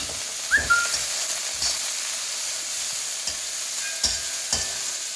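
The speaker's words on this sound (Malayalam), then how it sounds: "നന്നായിട്ടൊന്ന് ഇളക്കി കൊടുക്കുക കേട്ടോ." Vegetables including cauliflower fry in a pan for veg chowmein, a continuous sizzle broken by regular scraping knocks of a spatula as they are stirred, close and steady, with a brief whistle-like squeak.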